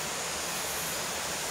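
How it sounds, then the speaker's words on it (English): Waterfalls roar in the background as a steady, even rush of falling water at a rainforest moth research site, with no voices over it. "hear some waterfalls."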